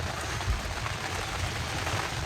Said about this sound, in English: It is still raining pretty good.